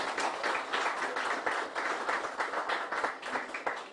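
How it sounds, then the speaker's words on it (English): A small crowd applauding, steady rhythmic clapping that stays moderately loud and fades slightly at the end. "Give him another round of applause."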